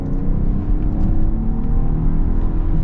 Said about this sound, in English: we are going to get our acceleration here with this multi-purpose vehicle.